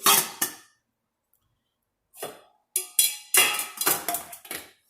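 Nesting camping cookware, pots and a frying pan, clanks and scrapes as the pieces are fitted inside one another: a sharp metallic clatter, a pause, then a quick run of close, loud knocks and rattles.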